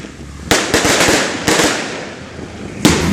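Fireworks set off along a street procession for the São Sebastião saint's festival in Campo Grande, several sharp loud bangs each followed by crackling bursts, fairly close with no talk.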